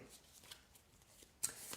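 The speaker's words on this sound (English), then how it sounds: "you will have all these cards together, and you will shuffle them" Playing cards for the board game Aurora Citadel are shuffled softly in a quiet room, a few faint riffles ending in a sharper, louder riffle near the end.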